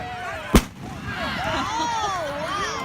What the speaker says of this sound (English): images of fireworks being set off over Lewis Bay